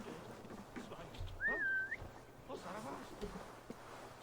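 In Assassin's Creed Valhalla, the player character lets out a single short, rising-and-falling whistle to lure guards, heard amid quiet game ambience and low murmuring talk.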